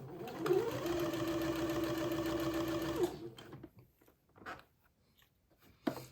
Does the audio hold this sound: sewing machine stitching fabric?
yes